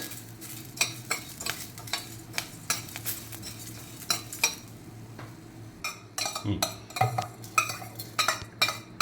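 Coriander seeds, cumin and curry leaves sizzle in a hot pan while a spoon stirs in quick, repeated scraping strokes against the metal.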